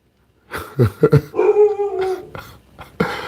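Pet dog reacting to a suspected intruder indoors, giving a quick run of short, loud barks and yips with a drawn-out whining howl in the middle, close to the listener.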